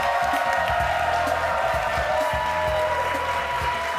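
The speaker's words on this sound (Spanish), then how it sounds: "Le vamos a dar un aplauso gigante al caballero," An audience applauds at a Tibetan singing bowl and gong sound session, steady clapping and some cheering over a sustained ringing tone, with a voice speaking underneath.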